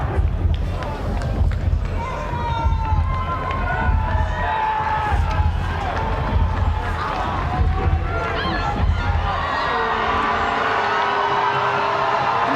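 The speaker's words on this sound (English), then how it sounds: "the crowd really getting behind both their teams as we await the kickoff" A crowd at a schools under-18 rugby semi-final cheers, whoops and shouts continuously as kickoff nears, with a commentator speaking over the steady roar.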